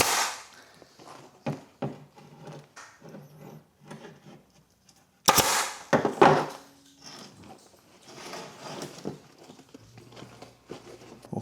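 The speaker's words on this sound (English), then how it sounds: "A little staple here." A staple gun fires into a dirt bike seat cover in a series of sharp, close clacks, with one louder cluster midway and handling noise between.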